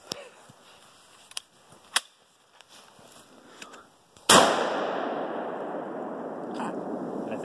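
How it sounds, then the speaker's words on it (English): A Liberator12k home-made shotgun fires a single slug, one sharp loud blast with a long ringing decay, preceded by a few faint clicks and handling noises. "I'm gonna shoot that zombie at point blank range with a slug."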